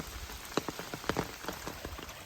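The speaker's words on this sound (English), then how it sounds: "It's just been dumping rain on me ever since I got to the bottom of the Clingman's Dome Hill." Heavy rain pours onto a waterlogged Appalachian Trail in the Great Smoky Mountains near Clingmans Dome, a steady hiss broken by close, irregular drops spattering on nearby surfaces.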